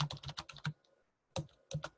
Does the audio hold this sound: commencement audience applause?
no